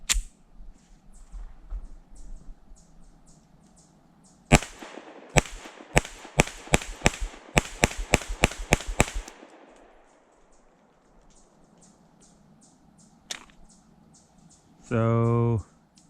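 A CZ P-10C Ported pistol fires a fast string of about a dozen sharp, loud shots, then a lone shot after a quiet gap, followed by a brief buzzing tone.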